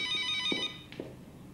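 A telephone rings with one electronic trill burst, followed by a couple of soft clicks or knocks as it fades, close and clear with no talking.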